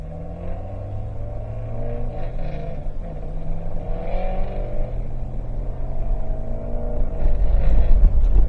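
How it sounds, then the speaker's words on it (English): Ford Mustang with a cheap aftermarket exhaust, its engine droning and revving nearby and building to a louder rumble near the end, with no talking. "This guy's got his Mustang with his dollar store exhaust."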